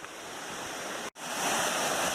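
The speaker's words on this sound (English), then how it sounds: "Look at how beautiful those waterfalls are." Waterfalls on a stream along the Appalachian Trail give a loud, continuous rushing roar, close by, broken once by a brief cut before resuming, with no talking.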